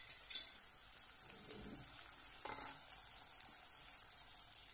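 Chickpeas and peas fry in a pan with a soft, quiet sizzle, broken by a few light clinks of a spoon against the cookware, with no talking.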